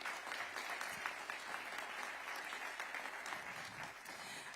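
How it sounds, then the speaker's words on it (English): An audience applauds at a Georgetown University Capital Campus ribbon cutting ceremony, with dense, sustained clapping from a crowd filling the room at an even level throughout. "another round of applause for Eddie Cohen."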